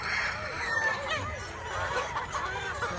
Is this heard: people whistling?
no